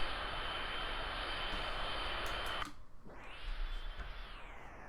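An Alpha Jet engine in the flight simulator X-Plane 11 roars loud and steady, then drops abruptly to a lower whine that swells and rises again in pitch.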